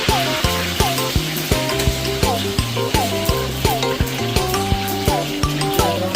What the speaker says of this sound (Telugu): దానికి నూనె, ఆ పోపులు అన్నీ వేస్తున్నాడు. ఆవాలు వేస్తున్నాడు